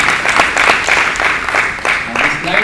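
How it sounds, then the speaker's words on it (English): An audience at an anti-spam workshop session applauds its panelists, with close, distinct individual claps in an uneven rhythm and a faint voice briefly underneath. "Let's give a round of applause to our panelists."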